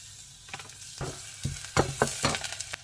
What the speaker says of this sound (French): Je mets un petit peu d'huile d'olive, puis je fais revenir de l'ail.